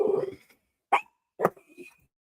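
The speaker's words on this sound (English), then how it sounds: "it's the dogs again" Dogs give two short, sharp barks spaced about half a second apart, close by indoors, after a brief low vocal sound, with silence between.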